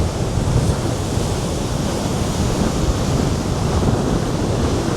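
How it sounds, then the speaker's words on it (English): Sea waves on a windy day washing up a flat concrete slope and splashing against seawall steps, a loud continuous roaring wash of surf mixed with wind noise, no voices. "the water at the moment is just coming up completely unhindered up the flat concrete slope, and when it gets to the steps, the concrete wave breakers, it's just splattering up in the sky"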